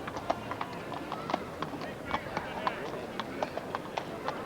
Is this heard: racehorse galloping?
yes